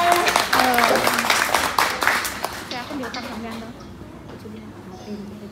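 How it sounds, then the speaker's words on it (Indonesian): Applause for Ibu Enda at a BNI bank community seminar, louder at the start and thinning out over several seconds, with speech and background voices mixed in. "tepuk tangan untuk Ibu Enda"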